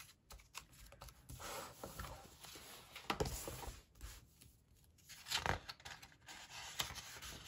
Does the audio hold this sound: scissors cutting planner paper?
yes